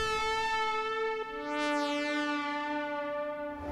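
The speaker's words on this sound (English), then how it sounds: "So I did that with this synth in Hive 2." Distorted synth patch from Hive 2 with a crystal-clear effect, holding a sustained bright harmonic chord that shifts pitch partway and sweeps a rising filter shimmer through the middle, steady and loud with no voices.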